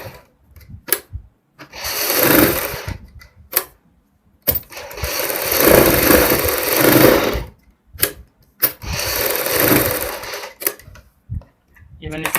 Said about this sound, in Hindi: ये मैंने सिलाई लगाई है